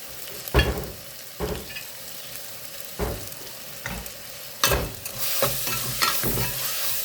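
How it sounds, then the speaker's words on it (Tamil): Chopped tomatoes with salt sautéing in a pan, a steady close sizzle broken by several loud scraping stirs of a spoon against the pan, with no voices. "உப்பு போட்டால் தக்காளியெல்லாம் அப்படியே வதங்கிடும் சுருளை"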